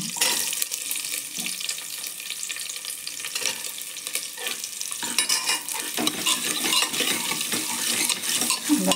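Onions with green and dried chilli sautéing in a pan, sizzling steadily while a utensil scrapes and stirs, the frying growing louder and busier toward the end.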